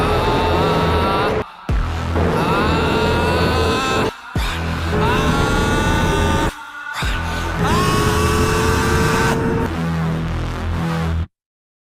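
A Yamaha R15 V3 motorcycle ridden along a cloudy mountain road in the Darjeeling area: a loud, close engine rises and falls through the gears, broken by three short gaps, with no talk over it.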